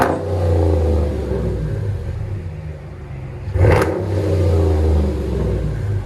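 A 2017 RAM 1500 5.7L HEMI V8 pickup with Flowmaster Super 10 dual exhaust idles with a steady low rumble, then revs sharply once before settling back to a throaty idle.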